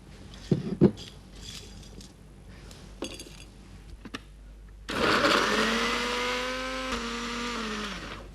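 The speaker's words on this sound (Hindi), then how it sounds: "पहले इसे हम पीस लेते हैं" Electric grinder whirring through cinnamon and masala spices, a loud steady motor whine kicking in after a few clinks and taps and holding to the end.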